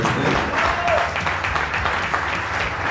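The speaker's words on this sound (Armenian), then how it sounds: "եկեք դա ջերմ ծափահարություններից" An audience at an Armenian gathering claps warmly, producing a dense, continuous patter of applause that holds steady throughout, with faint voices mixed in beneath it.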